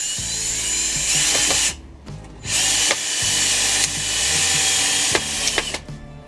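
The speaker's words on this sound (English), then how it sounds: "I'm now putting screws in from the other side to secure the other half of the leg." Cordless power drill driving screws into a wooden leg of a hydroponic vegetable bench, the motor whirring in several sustained bursts of about one to two seconds each, with short pauses between them, close and loud.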